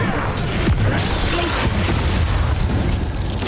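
Bombarda and Confringo spells erupt in Hogwarts Legacy, loud continuous booming blasts and crackling roar layered over each other throughout, with no clear gap between the explosions.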